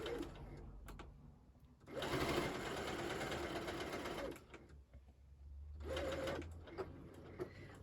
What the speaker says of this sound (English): I've decided to overlock this seam because it's very small and it's not very visible.